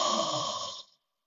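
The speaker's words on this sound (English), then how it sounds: "Intentional loud exhale." One long intentional loud exhale through the open mouth during yoga breathing practice, a close breathy rush lasting under a second that fades quickly to silence.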